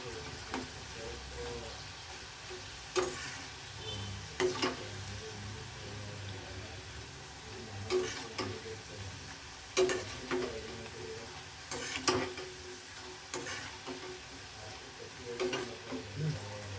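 Bitter gourd chips fry in hot oil with a steady low sizzle and bubbling, broken by repeated scraping stirs of a ladle against the pan, close and continuous.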